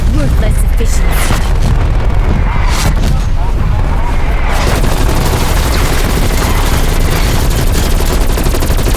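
Artillery strike in Call of Duty: Black Ops Cold War Zombies, a heavy barrage of booming explosions and rapid gunfire piling into a loud, continuous roar.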